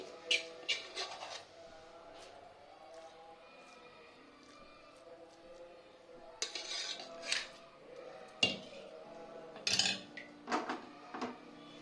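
A metal spoon scrapes and clinks against a pot and bowl as sweet chakkera pongal, a prasadam rice dish, is served out: a string of close, sharp scraping taps in irregular bursts between quieter pauses.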